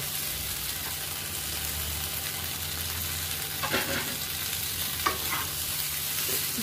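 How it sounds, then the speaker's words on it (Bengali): Crushed elephant apple stir-frying with spices for a pickle, a steady close sizzle with intermittent spatula stirring and scraping in the pan. "দু মিনিট ধরে মশলার সঙ্গে কষিয়ে নেব"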